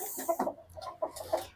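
Chickens clucking softly nearby, a rooster standing with two broody hens; several short, irregular clucks and murmurs come in bursts over a quiet background with no talk.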